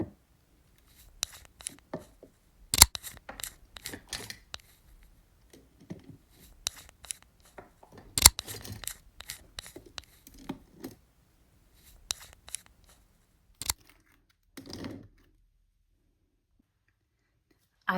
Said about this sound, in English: You just cut it up in a circle and then you put it down into the inside.